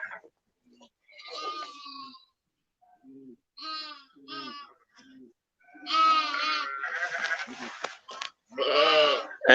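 Lambs and sheep on a sheep farm bleating repeatedly, some calls short and others drawn out and quavering, nearby and fairly loud, with quiet gaps between bursts and the loudest cries toward the end.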